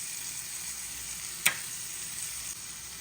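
Peppers fry in a pan with a steady, even sizzle, close and moderately quiet, broken by one brief sharp click partway through.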